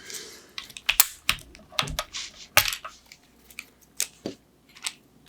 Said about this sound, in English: I need to remove all keycaps